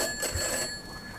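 A telephone rings with a bright, sustained electronic bell tone lasting about a second, sounding alone in a quiet room within the game Grey Dawn.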